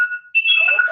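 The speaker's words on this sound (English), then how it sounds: "it's like an alarm going off" An alarm sounds over a speakerphone line as a steady electronic tone, breaks off briefly, then returns as a warbling, slightly distorted beep.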